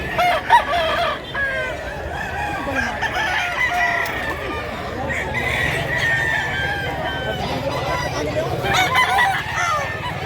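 Chickens cluck busily and a rooster crows, with a six-year-old black hen among the flock in Mantalungon, Barili, Cebu; the birds are close and loud, honking fowl call intermittently, and people talk in the background.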